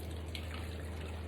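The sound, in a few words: water poured into Barbie Color Reveal doll container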